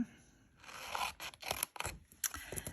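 Scissors snipping away scrap paper from a papercraft box, a few quick close cuts with soft scraping of paper in between, no talking.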